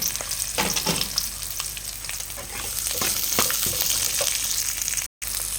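Onion fries in hot oil in a pan, giving a strong continuous sizzle and crackle with stirring scrapes, close and without talk, briefly cut near the end.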